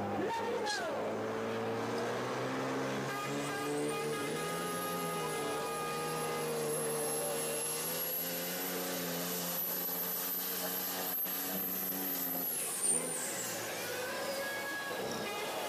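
A Liberty Bell pulling truck, a machine also raced in dirt races, roars steadily and loudly with a layered engine drone and a high whine that holds, then falls away near the end, with voices faintly beneath.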